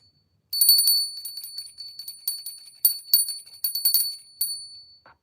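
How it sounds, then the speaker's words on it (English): A small bell is rung repeatedly in quick, uneven bursts, bright and metallic, each strike ringing briefly before the next, then falling quiet at the end. "I'm going to ring the bell"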